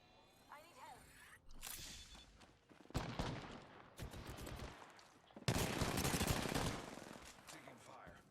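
Automatic weapon fire in Apex Legends, several loud, dense bursts of rapid shots separated by brief gaps, close and harsh, with a player's voice talking in between.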